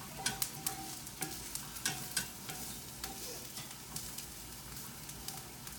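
Onions sautéing in a pan, a soft steady sizzle with faint scraping stir strokes and clinks at irregular intervals, fairly quiet and close.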